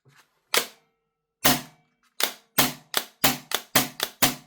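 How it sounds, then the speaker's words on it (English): KSC airsoft MP9 gas blowback gun firing single shots, then a quick full-auto burst of about seven sharp, evenly spaced cracks, close and loud, no voices. "Let's do a burst on auto."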